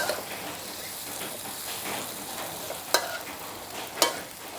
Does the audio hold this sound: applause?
no